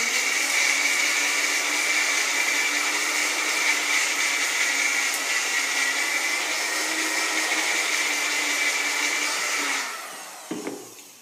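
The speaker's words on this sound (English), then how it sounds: "I'm going to just reduce it down, and I have to give it a little bit of a shake as it's blending" A blender grinds oats into flour as one loud, steady whir that runs for about ten seconds alone, then cuts off and is followed by a few light knocks.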